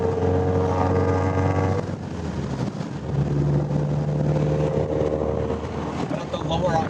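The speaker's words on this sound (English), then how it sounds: "at the lower RPMs, it sounds like any car with a good exhaust should" A Subaru BRZ with an aftermarket exhaust rumbles at low RPM, a close, steady engine drone whose pitch shifts partway through as the revs change, with a voice talking over parts of it.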